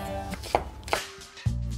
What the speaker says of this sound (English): first thing I want to do is start with chopping up onions